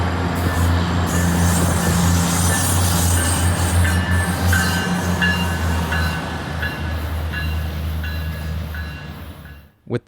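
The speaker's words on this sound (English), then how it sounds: "the crew will make quick work of running the train down to the Y for storage overnight" A VIA Rail Budd RDC car rolls toward the wye with a steady, loud low rumble and engine drone, faint rhythmic wheel clicks over rail joints, fading out at the end.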